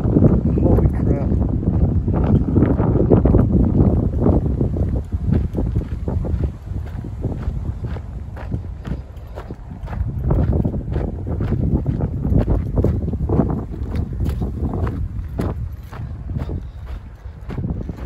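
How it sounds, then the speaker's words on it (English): Strong gusting wind buffets the microphone at the Big Bear Lake shore in California, a steady loud roar on a chilly beach walk, with people talking over it. "It's really windy."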